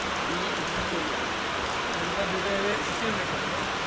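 Heavy rain at a station as a Hyderabad–Mumbai express train departs from Solapur, a steady, dense wash of noise that holds without a break, loud and close throughout.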